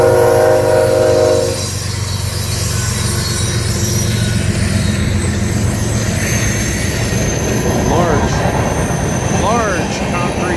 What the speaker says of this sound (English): train pass by.